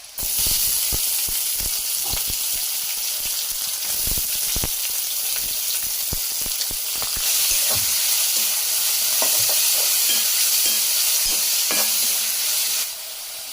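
Sliced onion dropped into a hot pan with chilli and garlic, frying in a loud, steady sizzling hiss, with occasional stirring knocks and scrapes throughout.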